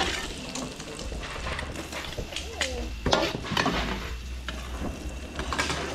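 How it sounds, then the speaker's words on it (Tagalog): Garlic and onion sizzle in melted butter in a pan for a seafood dish, a steady close frying hiss broken by scraping stirs throughout. "papulayin lang natin bawang sibuyas"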